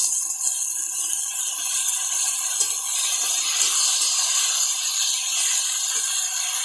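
Water poured into a pan of potato and eggplant coated in masala for a small-fish chorchori curry, giving a steady, close sizzling hiss that stays even throughout with no voices.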